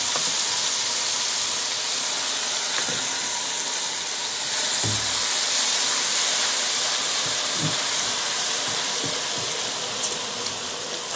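Mustard greens go into a hot pan of browned garlic and ginger, producing a constant loud sizzling hiss, with a few faint clinks and thumps from the pan.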